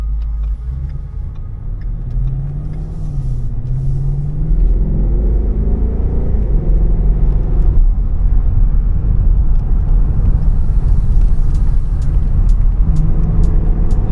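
A Ford Mustang GT V8 convertible drives along small country roads, its deep engine rumble loud and steady with rising and falling pitch as it pulls through gears, plus continuous road and wind noise.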